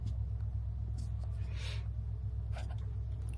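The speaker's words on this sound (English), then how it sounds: "I'm sitting in basically a parking structure" Low, steady rumble from inside a parked car in a parking structure, with faint scattered rustles and a soft hiss partway through and no speech.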